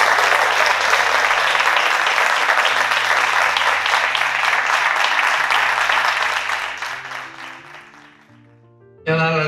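Warm applause from an audience at a commercial merit award ceremony in Sant Feliu, full and steady under quiet background music, fading out near the end before a voice begins.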